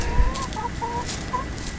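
Rooster clucking in short, close calls, a few brief notes spaced across the moment over a steady outdoor background hiss.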